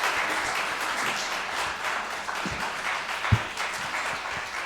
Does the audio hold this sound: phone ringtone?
no